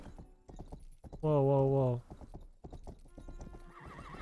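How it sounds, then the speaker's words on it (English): Horse hooves clip-clopping and a loud whinny in the video game Rustler, the neigh ringing out clearly mid-clip while someone speaks briefly around it. "Oh, police horse."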